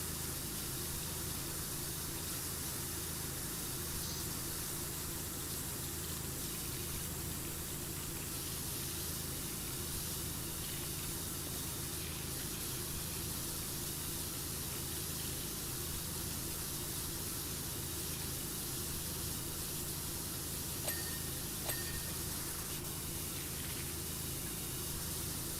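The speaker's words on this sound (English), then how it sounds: "I get like a really wide nozzle. Just spray this thing down really far away." A wide-nozzle pressure washer sprays in the video game Powerwash Simulator, giving a steady, unbroken hiss of water that runs the whole stretch without a break and with no talk over it.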